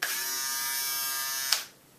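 Braun M 90 Mobile battery electric shaver running steadily at close range with a bright, even buzz, then briefly clicking and switching off near the end, leaving quiet.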